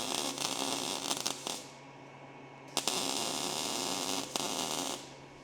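Welding arc from a £700 welder crackles and buzzes nearby in steady hissing bursts, cutting out briefly and sputtering back to life a couple of times.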